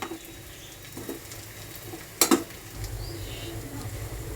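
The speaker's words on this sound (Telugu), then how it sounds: "ఒకసారి ఇప్పుడు దీన్ని కూడా తిప్పేసుకుందాం." Frying chicken stirred in a pan: a few scrapes and one sharp metallic clatter, then a steady sizzle rising toward the end, close and moderately loud.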